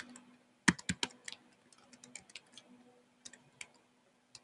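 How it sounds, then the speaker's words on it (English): Computer keyboard typing of title text, a quick burst of close key clicks followed by scattered lighter taps with pauses, no speech. "I can type my title text in right here"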